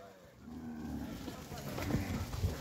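Cattle in a working pen give a low moo amid scattered shuffling and faint human calls, fairly quiet overall.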